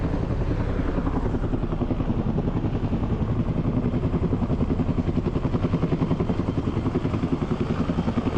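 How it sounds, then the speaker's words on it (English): A helicopter runs close by, its rotor thumping in a fast, steady beat over a loud engine roar that grows slightly stronger toward the end, with no talking. "looking at the chopper, all excited"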